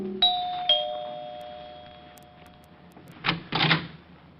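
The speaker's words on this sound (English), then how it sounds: "rang the bell to Helen's apartment" An apartment doorbell rings twice in a ding-dong chime, the bright tones sustaining and fading, followed by a muffled door handle and footsteps near the end.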